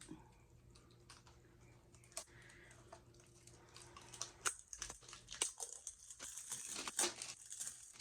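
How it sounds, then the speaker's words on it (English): Plastic wrap is peeled off a new CC Beauty makeup palette, giving quiet, close crinkling and tearing with scattered sharp crackles that grow busier toward the end. "it's still wrapped in plastic, so let's open it all the way up"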